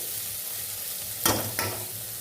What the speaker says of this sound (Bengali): এবার এগুলো একটু ভেজে নিই এরকম নাড়াচাড়া করতে করতেই ভাজা হয়ে যাবে